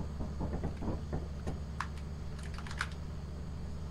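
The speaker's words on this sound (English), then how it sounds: "Is that the keyboard in the game, or is that his keyboard? No, it's his keyboard." Close, crisp computer keyboard typing during a Lethal Company gaming session, with a quick burst of keystrokes followed by scattered individual clicks.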